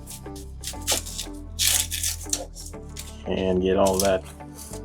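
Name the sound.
knife cutting an onion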